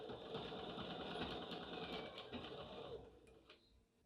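Sewing machine backstitching a few stitches on a messenger handbag, a steady close mechanical whir running continuously before tapering off near the end.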